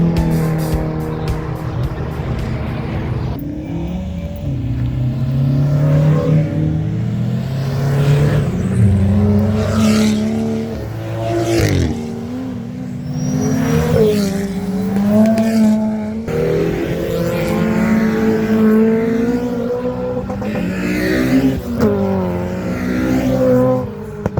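JDM cars and BMWs drift around a track at an action day, engines revving and rising and falling as they pass, with occasional tire squeal, loud and continuous.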